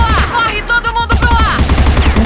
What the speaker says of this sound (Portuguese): Tô trocando tiro com o cara